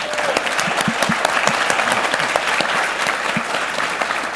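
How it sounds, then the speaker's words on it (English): Conference crowd at a maternal and infant health event applauds a staff member as she stands, steady dense clapping from many people in a large room, loud and even throughout with scattered distinct claps. "give her a round of applause"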